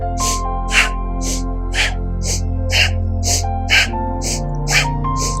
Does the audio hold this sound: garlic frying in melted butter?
no